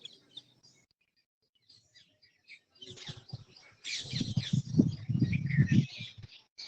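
Birds chirp outdoors in open air beside a temple's outer circumambulation path among trees, with sparse faint calls at first, then a busier, louder cluster of tweets later on.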